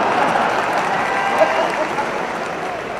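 A large crowd at an outdoor political speech claps in a continuous dense roar that stays even and loud throughout, with crowd noise blended in.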